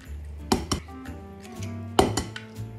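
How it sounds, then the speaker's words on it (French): Eggs being cracked into a bowl while making a lemon cream: a few sharp, close taps against the rim, a quick pair early and a louder knock later, with faint kitchen clinks in between and no talking. "on va commencer par casser 3 œufs"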